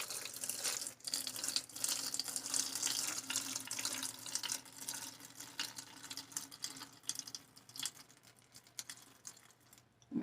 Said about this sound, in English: So I'm just going to pour it back into the water bottle.